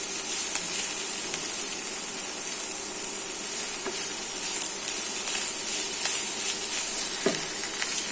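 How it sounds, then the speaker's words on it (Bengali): Cauliflower leaves frying in a pan, a steady close sizzle and hiss running evenly throughout with faint stirring scrapes, no voices. "ফুলকপির পাতা, যে ফুলকপি পাতা ভাজি"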